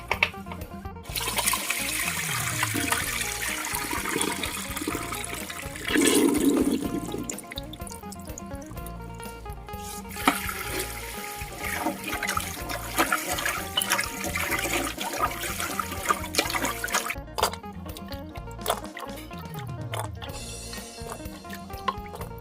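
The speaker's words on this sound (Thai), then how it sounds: "เราเติมน้ำสะอาดให้ท่วมหมูนะคะ" Clean water pours steadily into a pot over pork for a Thai pumpkin curry, a continuous close rushing splash with a few brief breaks, and no talking.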